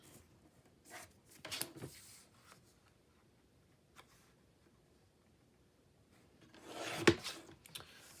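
A blade slices through index card to make hinge pieces for a floral journal, heard as a few brief close scraping cuts, one early and a stronger one near the end, with quiet gaps between.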